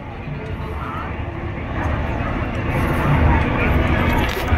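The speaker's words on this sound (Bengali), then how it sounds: "5 মিনিট পর পরই হেলিকপ্টারটাকে চক্কর লাগাতে দেখছি।" A helicopter circles over the huge crowd at the Kumbh Mela in Prayagraj, a steady aircraft engine rumble that swells slightly louder toward the end beneath broad crowd noise.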